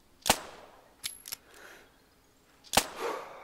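Gunshots in the hunting video game theHunter Classic, fired at a snow goose: two sharp, fairly faint cracks about two and a half seconds apart, with softer clicks between them.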